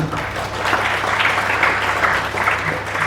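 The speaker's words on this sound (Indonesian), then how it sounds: "Ya, tepuk tangan." An audience of young people applauds at a tourism ministry Dharma Santi gathering in Bali, a steady wash of clapping held for about three seconds with a low hum underneath.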